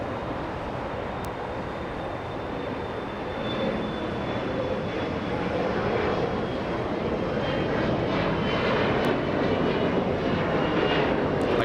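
An Embraer E-175 jet bound for Omaha, Nebraska takes off at LAX, a loud broad engine roar building steadily over about twelve seconds with a thin high whine drifting through it.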